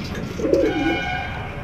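An Indian Pulsar pigeon gives a single short, low coo up close, over a faint background hum.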